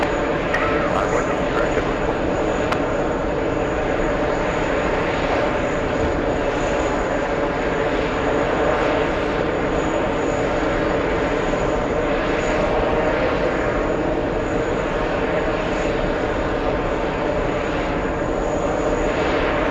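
A JetBlue airliner pushes back from a gate at JFK airport, its engines giving a steady, moderately distant whine and rumble that holds constant throughout.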